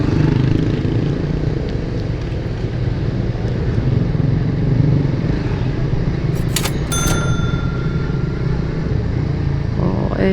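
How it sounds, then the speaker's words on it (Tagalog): Continuous loud drone of a motorcycle engine while riding, recorded on an action camera, with steady road and wind rumble and a couple of brief metallic clinks near the end. "pumipino yung tunog ng motor, yung masasagap niya."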